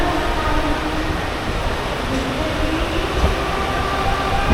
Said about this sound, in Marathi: आपली ट्रेन आता दादर स्टेशनवरून निघाली आहे